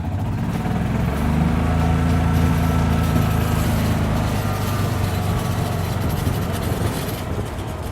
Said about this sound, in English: We've got the DeWalt 25-foot tape measure hooked up to the back of this golf cart here.